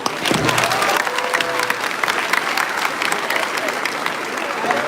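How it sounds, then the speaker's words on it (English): A crowd at a middle school eighth-grade graduation ceremony claps for a few seconds after a run of names, with some scattered cheers over the clapping. "All right, round of applause."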